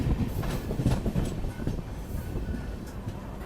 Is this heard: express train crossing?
yes